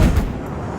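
A single heavy artillery impact in Arma 3, heard as a deep, loud boom with a brief rumbling tail.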